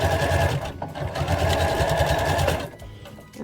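A sewing machine back stitches an overall pants seam in a steady, close, rapid whir that runs for a few seconds, pauses briefly, then resumes and stops.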